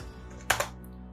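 Two quick keystrokes on a computer keyboard while a file name is typed during a save, a sharp click followed by a softer one, close and fairly quiet over a faint steady background hum.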